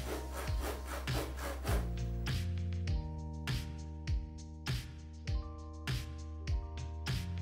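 A blade cuts bevels into a foam block for a Thor hammer prop, guided along a small angle iron, giving repeated squeaky, rasping strokes in a steady rhythm of roughly one every half second, close and alone.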